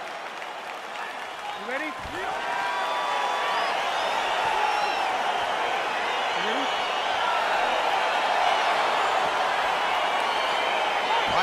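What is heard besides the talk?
crowd cheering in the video game EA Sports UFC 4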